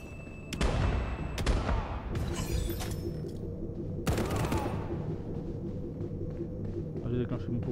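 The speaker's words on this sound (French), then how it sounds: "on va leur balancer des grenades là" Grenades exploding in the PC video game Section 13: several sharp, loud blasts, each followed by a crackling, shattering tail, with game sounds continuing between them.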